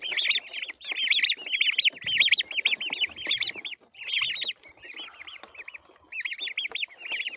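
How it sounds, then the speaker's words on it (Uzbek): Fifteen-day-old black diamond breed chicks chirp close by in a dense, continuous chorus of bright peeping calls, with only brief lulls and no voices. "Ko'rishingiz mumkin, jo'jalar tetik."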